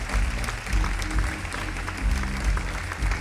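Concert audience applauding after band introductions at a summer pop festival, a steady wash of clapping over a low rumbling bass from the stage, loud and sustained throughout.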